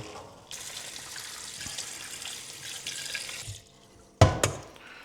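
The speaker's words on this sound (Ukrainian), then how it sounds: "зараз залиємо холодною водою" Cold water runs steadily from a tap into a pot of cooked potatoes and carrots for a few seconds, then shuts off, followed by a couple of sharp clanks of metal.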